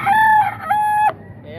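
A rooster crows at the Baliwag tiangge poultry market in two loud, close, drawn-out calls in quick succession, followed by faint clucking.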